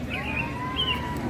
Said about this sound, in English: That's a chirping bird.